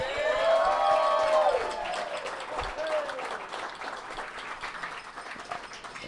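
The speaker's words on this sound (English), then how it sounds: "please give a warm welcome and a giant round of applause to one of my best friends in the world, the great Jamey Newberg." Applause and cheers rise from an audience welcoming a guest at a fan meetup. The clapping is loudest at first, then fades to a softer scatter, and a voice sounds faintly beneath it.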